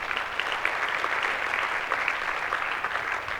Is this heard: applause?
yes